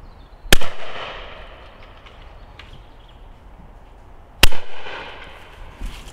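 Two loud shotgun blasts from a Browning Maxus II firing 32 gram game load cartridges at clays, about four seconds apart, each a sharp crack with a short echoing tail across open ground.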